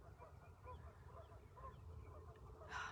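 Faint geese honking at a distance over a low background rumble, a few scattered calls in the quiet outdoor air.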